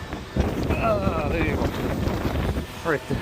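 Wind on a beachfront, blustery gusts rushing over the microphone as a steady rumbling wash, with people talking over it.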